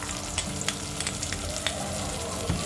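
Tomatoes frying in a pan, a steady close sizzle with light stirring taps scattered throughout.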